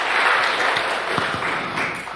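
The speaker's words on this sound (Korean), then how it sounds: "영광의 박수를 주님께 돌립시다." A church congregation claps during a Sunday service, a brief, even burst of applause from a roomful of people that carries on steadily without speech.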